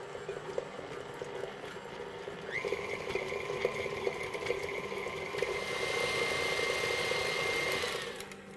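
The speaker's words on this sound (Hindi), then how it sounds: "तो ये हमारा चला गया मशीन में। रेगुलर देसी घी है। अब हम इसको थोड़ा बीट कर लेंगे।" An electric mixer beats regular desi ghee for nankhatai, a steady whirring motor hum that rises in pitch and loudness partway through, running alone close by.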